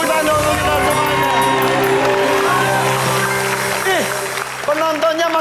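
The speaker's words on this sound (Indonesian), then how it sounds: "Tepuk tangan untuk kita semuanya." A studio audience on the Indonesian game show Family 100 claps and cheers loudly throughout, with whoops and shouts over a steady roar while a host's voice carries over the crowd.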